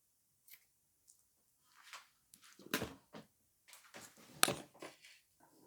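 Scissors snipping a notch into folded fabric, a handful of short, sharp cuts and rustles close up, quiet and intermittent with silence between them.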